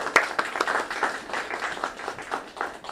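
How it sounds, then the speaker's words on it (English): An audience at a school event gives a short burst of scattered applause, with quick claps rising and falling over about three seconds, with no talking heard. "Let's clap Principal Lukov."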